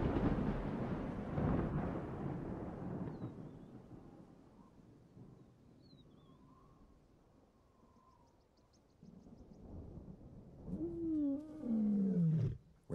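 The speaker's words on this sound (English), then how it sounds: "She roars, she calls to no one." A lone lioness roars on a stormy day, a deep rumbling call swelling near the end over a background of wind and thunder-like rumble; no one speaks.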